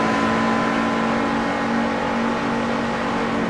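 A Ford NASCAR stock car engine in a racing video game drones loud and steady at high revs, a continuous whirring roar with no pauses.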